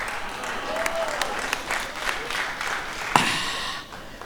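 An audience at a comedy show claps in a sustained burst of applause, dense and steady, with voices talking over it and one sharp loud clap standing out near the end.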